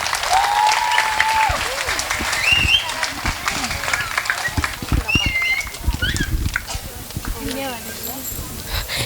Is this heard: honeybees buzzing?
no